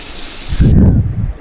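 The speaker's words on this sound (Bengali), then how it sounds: "আর পাশে হচ্ছে একটা ইলিশ মাছ ভেজে নিচ্ছি।" Hilsa fish frying in a pan, a sudden burst of hissing, bubbling sizzle that swells up close and then continues steadily after a short quieter lead-in.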